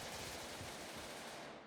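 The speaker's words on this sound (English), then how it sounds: "and then we see some gunshots." Rapid gunfire in the PvP shooter Blackhawk, a dense, continuous burst of shots heard at a distance without any voices.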